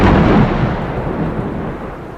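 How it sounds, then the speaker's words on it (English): Thunder during a night storm in Oklahoma, a loud close crack that swells and then decays into a long rolling rumble over about two seconds, with no voices. "The thunder and lightning kept waking me up"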